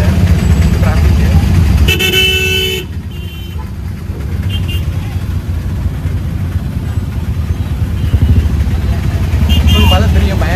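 Heavy city traffic heard from inside a moving auto-rickshaw on a trip from Kumbakonam to Chennai: loud constant engine rumble and road roar, with a short car horn honk partway through.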